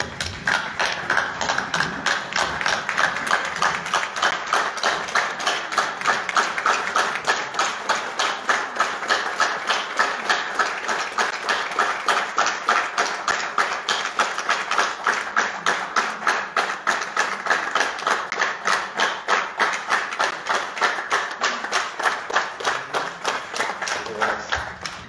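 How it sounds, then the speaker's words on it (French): Municipal council members give a minute of rhythmic, unison clapping in memory of someone, a steady evenly spaced beat of many hands that continues without pause throughout. "je vous propose que nous fassions une minute d'applaudissement en sa mémoire"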